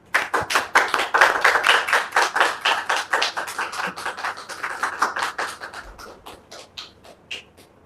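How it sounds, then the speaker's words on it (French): A small group claps for an invited guest, loud sharp distinct hand claps in a fast irregular patter that gradually thins and slows before a few last scattered claps. "Dame Topé, sous vos applaudissements, s'il vous plaît."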